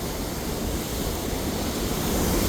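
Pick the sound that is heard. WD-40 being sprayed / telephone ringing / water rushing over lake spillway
water rushing over lake spillway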